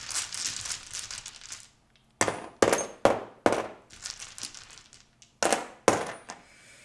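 Small dice clatter onto a surface in a run of sharp, separate drops. The drops come close together at first, then in pairs with short pauses.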